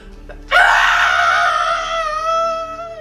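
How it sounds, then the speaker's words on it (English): A person lets out a single long, loud scream, sharply starting after a brief quiet moment and holding a strained, wavering pitch for over two seconds before easing slightly. "I pull up my branches up into the sky and I scream."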